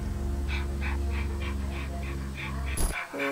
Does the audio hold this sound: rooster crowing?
no